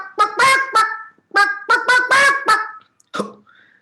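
Chicken calls during a told story about a chicken on a window: a series of loud, nasal, honking squawks in short bursts with brief pauses, close and clear, with no talking.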